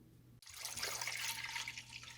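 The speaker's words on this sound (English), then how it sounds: "And you're going to want to pour that whole thing in here." Whole milk, a full gallon, is poured into a large pot for homemade ricotta, making a steady splashing gush that starts abruptly and carries on loud and close with no talk.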